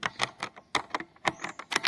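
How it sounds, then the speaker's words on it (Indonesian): Rapid keystrokes on a computer keyboard as a Linux terminal command is entered, about a dozen crisp, close clicks in an uneven rhythm with brief pauses, heard alone without any voice. "Teman-teman tinggal mengetik sudo"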